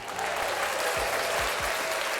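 A short burst of steady applause from a small group, a dense wash of clapping that holds at an even level for a couple of seconds, recorded during a podcast.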